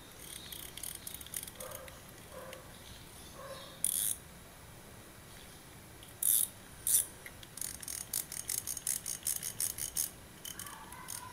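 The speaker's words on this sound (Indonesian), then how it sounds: "Jadi nggak begitu nyaring memang untuk bunyi klikernya." Quiet, fine clicking in short bursts, like a ratchet spinning, with a few sharper ticks between the runs, from the clicker of a Kenzi D Coral 3000 fishing reel, close up against a low background hiss.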